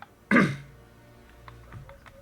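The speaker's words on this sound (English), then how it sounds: "Sorry for the cough." A single sharp cough bursts out close to the mic, then fades into quiet room tone with a few faint clicks, during a Call of Duty: Black Ops 6 playthrough.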